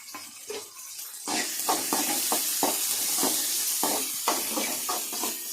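Chopped onion, garlic and ginger sauté in a pan, giving a close, steady sizzle and hiss, punctuated by a regular series of stirring scrapes after a quieter start.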